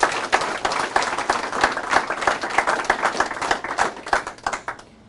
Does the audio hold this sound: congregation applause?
yes